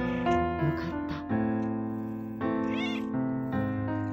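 A newborn kitten, found still in its birth sac, meows in a series of close, high, wavering cries, one after another with short gaps.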